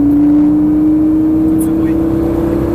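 A Lamborghini Gallardo accelerating hard on a race track, its engine a loud, steady drone that climbs slowly in pitch without a gear change, heard from close by.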